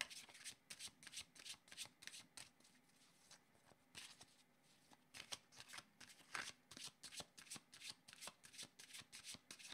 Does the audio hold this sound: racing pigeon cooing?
no